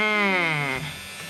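A small electric DIY drill whines at high speed close by, its pitch sliding downward as it winds down over about a second.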